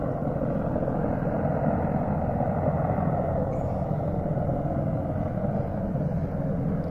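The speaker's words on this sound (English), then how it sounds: "Coming right over our boat, these Apache helicopters." Steady, loud rotor rumble of Apache helicopters passing low over a narrowboat on the Great Ouse river, a dense continuous drone with no talking.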